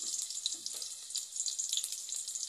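Meat frying in a pan as it browns on a home stove, a steady, close sizzle with dense crackling that runs through the whole stretch without talk.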